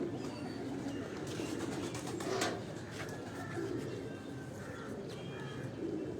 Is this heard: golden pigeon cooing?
yes